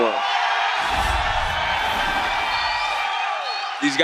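Fans at a UFC 261 press conference for the main-event fighters cheer and whoop in a loud, sustained wash of crowd noise that swells through the middle, with someone talking over it.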